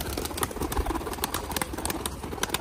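Pigeons cooing near their coop, with a dense run of bird calls and sharp clicks or wing flaps repeating close by, steady and loud with no talk.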